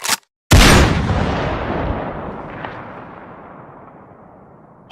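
A single heavy, booming impact from a boxing match knockout, loud and close, followed by a long roaring crowd swell that slowly fades over several seconds, with no talking.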